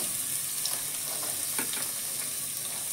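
Chopped garlic and carrots fry in a pan with a steady, even sizzle that carries on for a few seconds, with faint crackles and soft stirring scrapes over the hiss.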